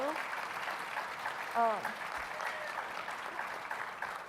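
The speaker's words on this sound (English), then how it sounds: "Round of applause for them." Applause from an audience at an ataxia awareness conference panel, a steady broadband patter of clapping hands lasting throughout, with a brief voice rising over it midway.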